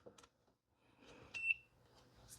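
An ohm meter beeps once while testing a riding mower's safety switch, a short thin tone standing over faint clicks and handling noise in a quiet space.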